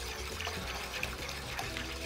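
Boiled water poured into a cooking pot for kufta soup on a gas stove, a steady close splashing gush that runs on without a break.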